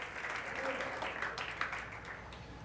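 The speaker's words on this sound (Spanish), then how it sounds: "Un aplauso al Señor." Church congregation applauding, a steady wash of clapping with a voice speaking over it and cheers rising near the middle.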